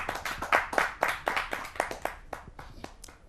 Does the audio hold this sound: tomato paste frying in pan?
no